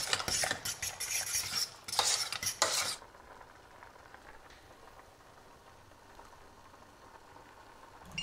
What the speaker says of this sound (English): When you see it kind of boiling up like it's doing here, make sure to stir it heavily so nothing burns in the bottom.